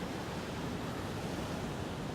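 Steady ocean surf breaks on a beach beside a rock out in the water, a constant hissing wash of noise at moderate level with no distinct separate waves or voices.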